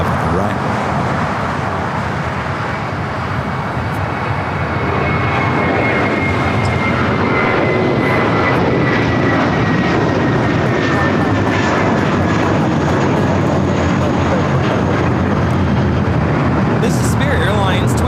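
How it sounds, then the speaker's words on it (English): A Spirit Airlines Airbus A320neo takes off from runway 25 right at LAX. The engine roar is loud and steady throughout, with a rising whine. Voices talk over it. "Already Spirit A320 Neo. Take it off, 25 on the right."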